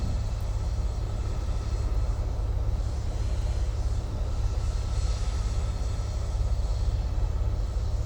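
Steady droning rumble of a Bonanza light aircraft's piston engine in a flight simulator, held at a constant loud level without any change in pitch or rhythm.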